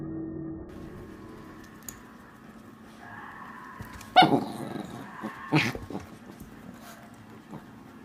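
Low, continuous growling from dogs at play, broken by two sharp barks midway, with rustling movement around them.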